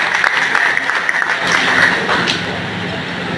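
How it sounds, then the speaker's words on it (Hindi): An audience at an Agrawal community meeting in Khurja, Bulandshahr gives a guest a hearty round of applause, loud, dense clapping that holds steady and then tapers slightly. "आपका जोरदार तालियों से स्वागत है"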